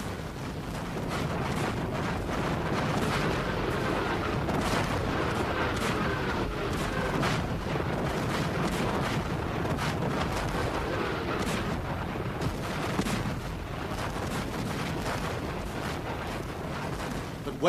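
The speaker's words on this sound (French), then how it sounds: "246 canons français ouvrent le feu." French artillery cannons opening fire in a Napoleonic battle, a long barrage of repeated booming shots and blasts overlapping into a loud, rolling roar with no pause.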